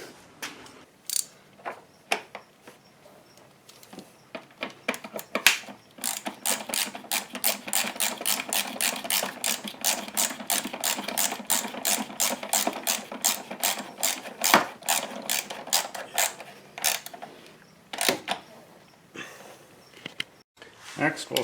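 Ratchet wrench clicking rapidly while tightening the battery hold-down clamp on a Chrysler Town & Country minivan, a long steady run of close, sharp ratcheting clicks with a few slower clicks before and after.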